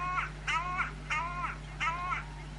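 A crow caws four times in a steady rhythm, the calls close and clear over a constant low electrical hum, recorded at about seven in the morning on a foggy summer day.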